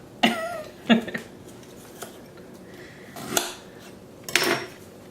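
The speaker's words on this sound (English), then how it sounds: "that is how you rapidly peel, core, and slice an apple when you have the right device" Apple peeler-corer-slicer device working through an apple during pie baking, giving a few distinct clicking, scraping metallic clacks spaced over several seconds, close and moderately loud with quiet gaps between.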